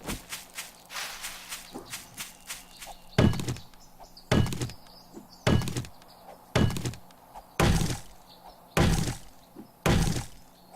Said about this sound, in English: Steel fire axe, that's the way to get wood.